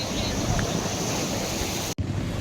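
Sea waves on Rushikonda beach in Vizag, a continuous wash of surf mixed with wind noise on the microphone, cut by a brief dropout near the end.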